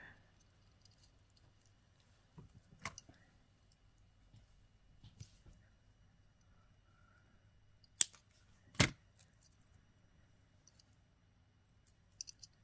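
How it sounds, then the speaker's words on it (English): Cutting extra wire off a handmade necklace, with a few sharp, isolated snips and clicks from small cutters against a very quiet background, the loudest two close together near the middle. "So now we'll cut this extra wire off right here."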